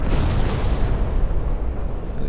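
Naval guns and shell explosions rumble in a naval battle video game, cruiser secondaries and battleships firing together as a dense, continuous low roar of overlapping booms at steady loudness.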